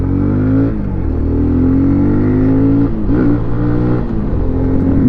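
A 2020 Kawasaki Z125 Pro small motorcycle ridden close, the engine droning and rising in pitch through the revs, with a brief dip and recovery around a gear change partway through.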